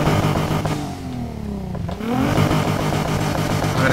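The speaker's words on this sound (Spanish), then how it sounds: "Vamos a arrancar el coche." A car engine fires up and revs in the video game Need for Speed Heat, rising and falling in pitch before settling into a loud, steady roar.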